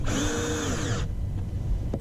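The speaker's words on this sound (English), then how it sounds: "I'm just going to use the drill, tighten it up a little bit around the edges" A power drill drives screws into a Hayward skimmer fitted to the metal wall of an above-ground pool. It whirs in one steady, close burst for about a second, then cuts off, leaving quiet room tone with a faint click near the end.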